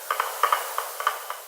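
A spoon stirs a half cup of rice with one and a half cups of water and some salt in a microwave dish, making a run of light, uneven clinks and scrapes, close and clear with no talk.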